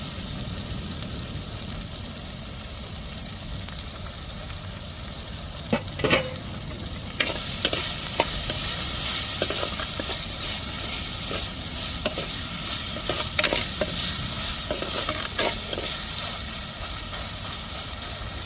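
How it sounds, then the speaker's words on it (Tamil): Onions, tomatoes and green chilies sauté in a hot pan with a steady, loud sizzle, and a spoon scrapes and stirs them in irregular clattering strokes. No one speaks. "நல்லா தக்காளி மிளகாயும் வதங்கட்டும் வெங்காயத்தை சேர்த்துருவோம்"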